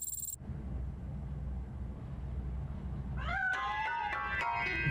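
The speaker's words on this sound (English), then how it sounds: "That cat must be hiding inside." Cat meowing from inside a piano in the video game Robocop: Rogue City; after a quiet stretch of low background rumble, a few close, clear meows arrive in the final seconds.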